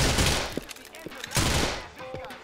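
Gunfire in the video game GTA 4: a few sharp shots crack out at irregular intervals over a busy game soundscape, fairly close and loud.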